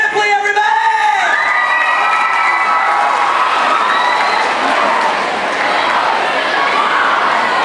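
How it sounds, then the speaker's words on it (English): A large crowd applauds and cheers loudly for a comedian at a stand-up comedy show, with whoops and shouts rising over sustained clapping that continues throughout. "Applause for Shane Ripley, everybody!"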